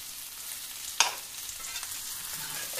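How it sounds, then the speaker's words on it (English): Potato-crusted hogfish frying in a pan, a soft steady sizzle with a sharp spatula clink near the start and faint stirring scrapes after, no talking. "This piece of fish is burning, by the way."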